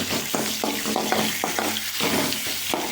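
Four pieces of tomato sauté in a hot pan with curry leaves for semiya kichadi, a continuous close sizzle broken by repeated rhythmic scrapes of a spoon stirring.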